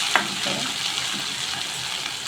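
Ginger frying in a pan for a palak and spring onion curry, a steady bright sizzle throughout with a light stirring scrape near the start, close and alone with no talk.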